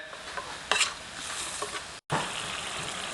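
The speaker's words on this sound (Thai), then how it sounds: "น้ำพริกแกงเขียวหวาน จะผัดให้สุกหอม แตกมันเลย" Green curry paste stir-fried in a pan for a featherback fish green curry, a steady close sizzle with scraping stirs and one brief cut near the end, no talking.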